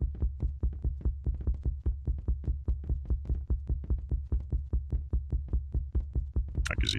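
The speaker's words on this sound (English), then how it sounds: "the heartbeat thing is really not helping" A steady video-game heartbeat effect thumps in a regular, close, loud double-beat rhythm for several seconds, with a brief higher-pitched sound flaring at the very end.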